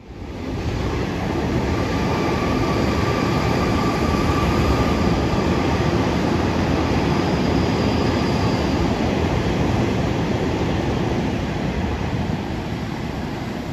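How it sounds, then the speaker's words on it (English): A Sydney Metro train running near the Chatswood dive site, a continuous broadband rumble of wheels and rail that holds steady for the whole stretch, with faint high squeal tones. "You can see a Sydney Metro train in the distance"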